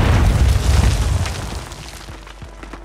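A mortar shell explodes in the Call of Duty video game, a loud deep boom that opens the clip and rumbles away over a few seconds, with small crackles trailing after.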